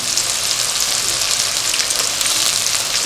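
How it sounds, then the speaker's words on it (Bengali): Capsicum added to a frying pan with melted tomato, cooking for vegetable egg noodles, produces a dense, loud, rain-like sizzle that holds steady for a few seconds with no talk. "টমেটোটা গলে গেছে, এবার ক্যাপসিকামটা দিয়ে দিচ্ছি"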